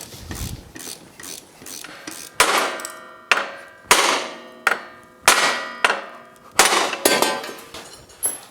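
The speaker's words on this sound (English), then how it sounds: "We're going to take off the circlip on the top of the ball joint and then drive it out through the upper A arm." Hammer blows driving a ball joint out of the upper A-arm on a Yamaha YXZ1000R, about nine sharp metallic clangs in an uneven rhythm, close and loud, each ringing briefly before the next strike.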